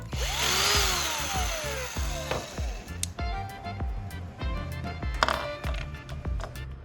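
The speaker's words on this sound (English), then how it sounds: "I use a drill to make a hole directly in the bottle cap" Power drill boring a hole straight through a bottle cap for a refilled spray paint can, a whirring, grinding run with several short bursts and pauses, close and fairly loud, with no talk.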